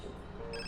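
A phone rings in the video game GTA San Andreas: a short electronic ringtone over a thick, steady background of game sound, with no speech.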